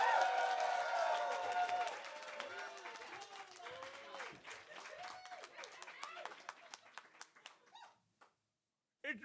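An audience at a trivia night claps and cheers with raised voices, loud at first, then thinning into scattered claps that fade away before a final few.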